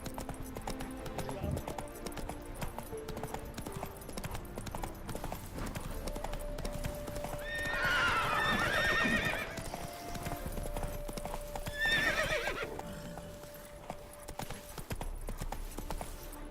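Horse hooves clip-clop at a gallop in the video game Witcher 3, with two bright neighs rising over the hoofbeats midway and again later, set against game music and ambient sound.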